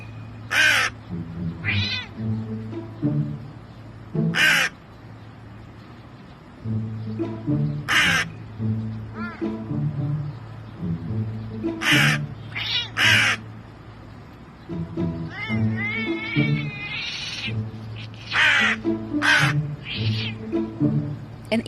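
A crow caws repeatedly in loud, close bursts, trading calls with a cat's meows and yowls in a back-and-forth squabble.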